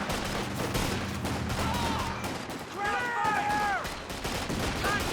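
Small arms fire in Company of Heroes 2, rapid cracking rifle and machine-gun bursts layered densely in the mix, mid-distance and continuous beneath a commentator's voice.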